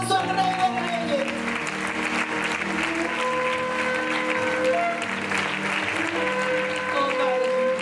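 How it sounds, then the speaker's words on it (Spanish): A church congregation applauds steadily throughout, dense clapping filling the room, while a voice speaks and sings over it at a service. "Dale un fuerte aplauso al Rey de Reyes."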